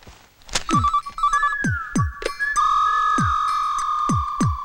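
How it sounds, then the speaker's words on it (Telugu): A phone ringtone plays a repeating electronic melody, loud and close, cut through by a series of sharp knocking thumps. "ఫోన్ రింగ్ అవుతుంది, ఫోన్ ఎత్తొచ్చుగా."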